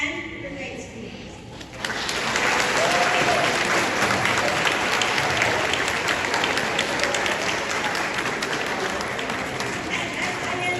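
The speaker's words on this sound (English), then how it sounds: "ask for a big round of applause for your dynamic teachers and your leadership and your great students" Graduation ceremony audience breaks into a big round of applause for teachers, school leadership and students, steady dense clapping rising after a brief quieter moment and carrying on loud to the end, a few voices mixed in.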